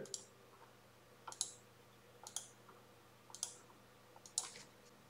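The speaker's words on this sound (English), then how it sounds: "when we click at any point of the score" A computer mouse clicks on points in a dance-lesson score, five crisp separate clicks roughly a second apart over a quiet background, close and alone.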